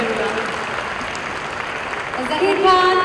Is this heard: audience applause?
yes